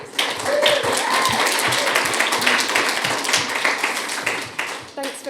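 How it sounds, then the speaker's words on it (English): A conference audience gives a round of applause: scattered claps and taps run under a speaking voice that continues through most of the moment. "Can we give her a round of applause"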